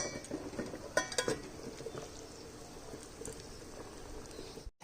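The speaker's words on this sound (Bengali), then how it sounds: "আগেই জল বসিয়ে দিয়েছি, জলটা গরম হচ্ছে, জলের মধ্যে আমি বসিয়ে দিলাম।" Water heating in a covered pot on a gas stove for steaming, a steady close bubbling hiss with a few light metallic clinks of pot and lid near the start.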